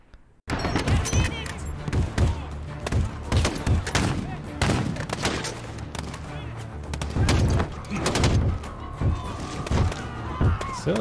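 Near-constant gunfire in Call of Duty Modern Warfare 2019, with repeated sharp shots and thuds in irregular bursts over about ten seconds amid a busy battle mix.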